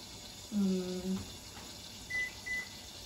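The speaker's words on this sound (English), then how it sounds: "Kitchen timer." Short electronic beeps from a kitchen timer, set while cooking steak, sound faintly over a steady background hiss, a couple of tones then two higher blips.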